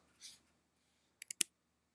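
Keys on a computer keyboard tap in a short burst: one soft press, then a quick run of three crisp clicks, close and quiet in a silent room.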